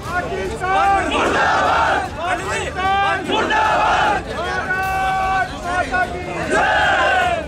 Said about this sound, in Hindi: जहां शहीद जवान किशन सिंह को श्रद्धांजलि देने के लिए लोगों की भीड़ जमा हो गई।